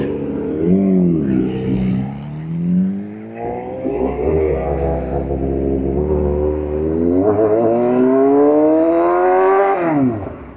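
A Honda CBR1000RR-R Fireblade SP sportbike revs under the rider, its loud, close engine note climbing and falling in pitch through several throttle sweeps with no talk over it.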